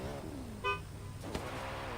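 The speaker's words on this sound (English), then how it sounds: "give us a honk" A car horn gives one brief, faint toot at a drift racing qualifying session, heard over an idling engine and ambient noise.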